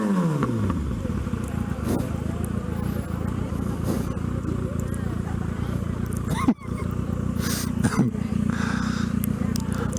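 A 2020 Kawasaki ZX6R KRT sport motorcycle idles and revs outside a school, its engine a steady low throbbing drone with a brief dip, while someone talks over it.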